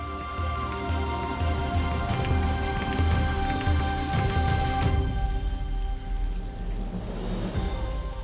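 Heavy rain falls in Braj as a dense, steady hiss over a low rumble, with sustained musical tones underneath and no talking.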